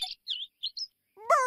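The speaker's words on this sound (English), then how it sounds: "Bird." Several short, bright bird chirps in quick succession, clear and close with brief silences between, followed by a voice speaking.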